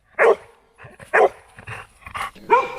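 A search dog in training, a former stray in post-earthquake Turkey, gives a run of loud close barks, several sharp woofs in uneven rhythm, with a short whimpering yip at the end.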